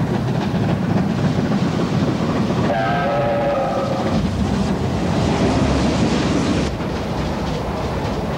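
Steam locomotive 3801 running on an outback tour to Alice Springs, a loud continuous rumble of the moving train with a brief tonal whistle or horn sounding partway through, no voices.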